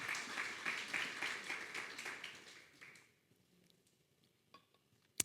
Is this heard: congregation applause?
yes